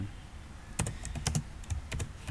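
Typing on a computer keyboard, with sparse bursts of key clicks and short pauses between them, close and fairly quiet, with no voices.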